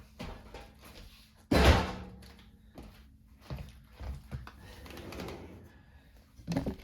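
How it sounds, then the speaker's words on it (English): A bottom drawer is pulled out of a GE gas oven, giving one loud hollow thunk followed by softer scattered knocks and rattles close by. "take them both out and the drawer comes right out"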